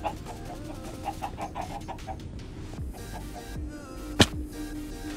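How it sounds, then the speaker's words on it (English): Sand chickens in a video game clucking repeatedly in short rhythmic bursts, with one sharp squawk near the end over a busy game background. "See, I'm hearing other chickens here."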